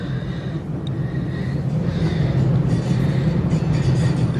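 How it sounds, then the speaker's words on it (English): A continuous low rumble of a train rolling past, steady and fairly loud, with faint rattling on top and no voices. "That's a train."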